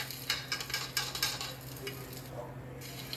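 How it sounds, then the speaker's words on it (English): Rice for shrimp and chicken fried rice sizzles and crackles steadily in a hot oiled pan, with rhythmic scraping stirs near the start. "because we're frying this rice"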